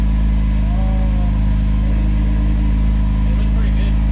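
BMW E46 ZHP on a cold start, fitted with an Active Auto Works exhaust, holding a deep, steady, throbbing idle close by, with a voice talking faintly over the engine.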